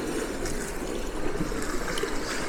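Surf at Kilve Beach washing in and draining back over the rocky shore, a steady broadband rush of water that stays close and continuous with no talking.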